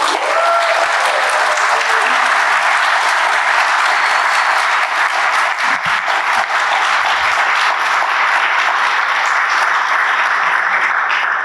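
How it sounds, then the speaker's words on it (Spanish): Dense, loud applause from an audience fills the room at a university book launch for "Alfabetización para la memoria," holding steady and unbroken for about eleven seconds. "de la autora Mariela Bravo Rivera, a quien pido un aplauso."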